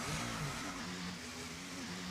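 A Formula 1 car engine in a racing video game hums faintly at moderate revs, a thin steady drone that wavers slightly in pitch throughout.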